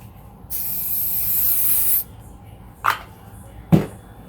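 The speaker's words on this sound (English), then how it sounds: "I'm just going to spray it here." A steady hiss of hair spray onto a wig lasting about a second and a half, followed by two soft brushing rubs nearby.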